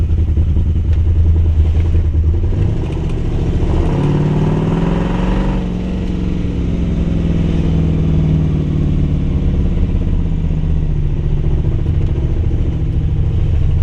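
A street rod's engine runs steadily at idle around 1,000 rpm, a constant low rumble with mechanical clatter, loud and close throughout.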